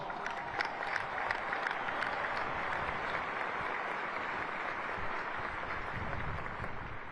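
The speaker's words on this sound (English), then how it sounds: "Let's give them a round of applause." Large audience at a United States military academy graduation gives a long, even round of applause for families and friends, a dense steady clatter of many hands, fairly distant and unbroken.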